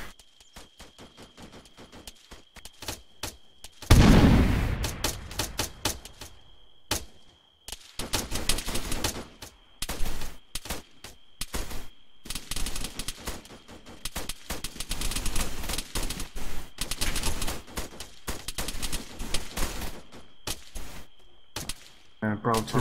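Rapid airsoft gunfire in an outdoor skirmish game, strings of sharp close and distant shots in long bursts with brief pauses, a busy chattering exchange of fire.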